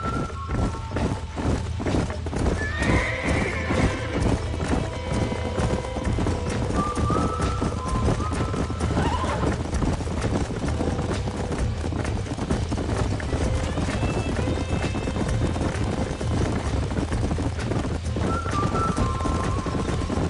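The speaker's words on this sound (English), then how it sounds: "These are fine horses." Hooves clop and pound steadily under continuous Red Dead Redemption game music, with a couple of horse whinnies rising briefly over the rhythm; voices are heard faintly.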